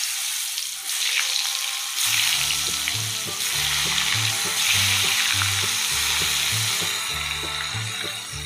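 Sliced pumpkin frying in oil in a pan for a Bengali meal, a steady crackling sizzle that jumps in loudness as the pieces go in, with intermittent low clinks of a utensil stirring.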